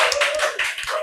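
A small audience claps for a young beautician from a Denpasar beauty clinic, a brief close round of hand claps with separate slaps audible.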